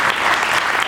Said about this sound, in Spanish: una ofrenda de palmas al Señor para saber que están aquí